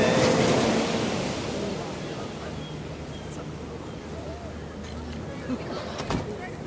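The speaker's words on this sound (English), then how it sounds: "Even the waves seem to be celebrating with you over here" Ocean surf at Malibu beach during a seaside wedding, a broad continuous wash of breaking waves with wind rumble on the microphone, loud at first and then settling to a steady roar.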